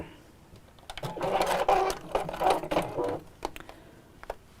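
A sewing machine runs in reverse while stitching a quilted pouch, giving a close, rapid mechanical whir in a few short bursts over about two seconds, with quiet pauses and light clicks on either side.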